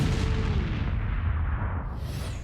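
A big, sustained boom rumbles from an antique cannon fired outdoors. It sounds like a heavy blast that rolls on and slowly decays, with no voices over it.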